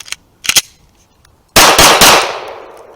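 Handgun shots fired right after a speed reload during a tactical shooting demonstration: a couple of sharp reports close by, a short pause, then a loud burst of rapid shots ringing out.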